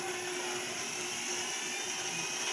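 An electric blower fan runs steadily throughout, a constant broadband whirring hum with a whine, close and uninterrupted, with no talking.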